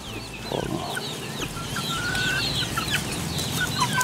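Native chickens cluck in a chorus on a small backyard farm, with bursts of short calls and chirps repeating throughout, close and moderately loud over steady background noise.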